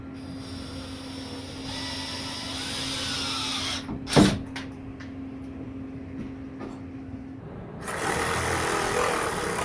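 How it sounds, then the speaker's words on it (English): A power drill drives screws into the leg of a pallet-wood shed workbench: a steady motor whine runs for several seconds with a sharp knock midway, then a harsher, noisier burst near the end. "I'm going to put the other 2 screws in."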